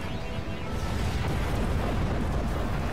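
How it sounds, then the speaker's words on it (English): A warship blows up in the Dreadnought naval combat video game, a loud, sustained explosive roar with deep rumbling and crackling bursts that fill the whole three seconds. "The enemy destroyed one of our ships."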